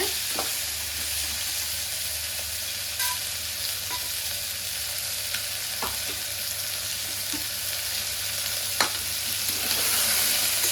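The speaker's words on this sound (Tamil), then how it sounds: "இடிச்சு வச்ச நண்டு நல்லா கலருங்க." Crushed crab is stirred in a hot pan for Tamil crab rasam, giving a steady, dense sizzle and frying hiss with occasional soft scrapes of the spoon, close and continuous throughout.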